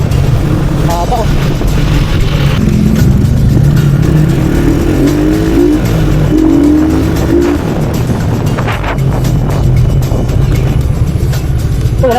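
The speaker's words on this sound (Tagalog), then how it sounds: "Ilang oras na traffic pa rin dito sa crossing ng Muson" Heavy road traffic at the Muson crossing, with a constant roar of car and motorcycle engines, passing vehicles and an occasional tire squeal, and people talking over it.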